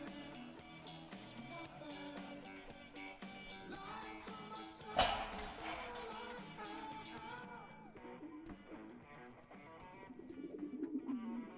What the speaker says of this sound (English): Those are the inside birds. They are inside. Who's letting birds in the house?